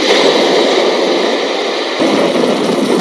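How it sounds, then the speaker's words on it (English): A sleep sound machine gives off loud, steady white noise, a dense even hiss that runs unbroken apart from a brief dip partway through. "the last four things inside the box are white noise"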